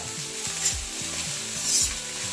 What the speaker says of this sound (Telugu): మంచిగా ఇవన్నీ కలిసేలాగా మంచిగా మనం స్టిర్ చేసుకోవాలి